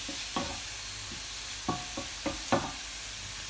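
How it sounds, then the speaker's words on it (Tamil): Onions and tomatoes sauté in a pan for quick side dishes, a soft steady sizzle under a few distinct scraping stirs of a spoon, fairly quiet and close with no talking. "வெறும் வெங்காயம் தக்காளி நல்லா வதக்கணும்"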